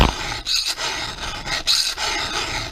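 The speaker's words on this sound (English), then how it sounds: "I'm filing straight down like this" A hand file rasps down across a chainsaw chain tooth in two close, gritty strokes, each a harsh scraping pass with a short pause between them.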